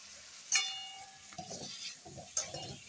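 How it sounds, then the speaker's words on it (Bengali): Onions fry in a pan for chicken kosha, a steady sizzle with a few sharp clinks and stirring scrapes of a spoon against the pan, close and moderately loud. "এবার পেঁয়াজগুলো ভেজে নিচ্ছি"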